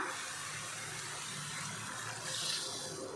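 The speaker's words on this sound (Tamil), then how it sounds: "இப்போ இதில் தண்ணி சேர்த்துக்கலாம்" Water poured into a pan of tomato kuzhambu cooking with spice powder and tomatoes: a steady close splashing pour that carries on throughout and swells slightly near the end.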